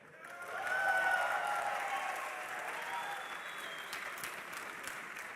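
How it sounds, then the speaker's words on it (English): At the DreamHack Winter 2012 esports semifinal, a crowd cheers and claps for Copenhagen Wolves. The applause swells over the first second, then holds as a steady, somewhat distant roar of clapping and cheering. "give us a cheer"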